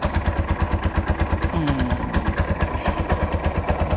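A Bajaj auto-rickshaw's 205cc engine with a pick-up problem runs at a steady idle, its close, loud, rhythmic chugging pulsing evenly throughout with no talk over it.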